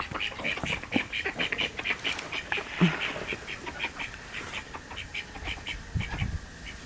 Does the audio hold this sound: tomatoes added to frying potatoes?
no